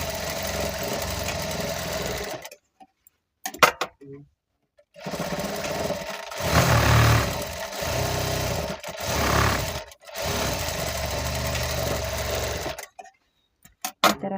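A sewing machine stitches the side seam of a 42-inch-chest blouse in several runs of rapid mechanical whirring, separated by brief silent pauses, with someone speaking in between.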